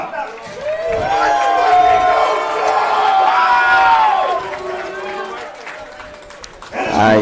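Crowd at an MMA fight cheering and shouting as a fighter is introduced, a loud sustained roar of voices with rising and falling yells that dips briefly before swelling again at the end.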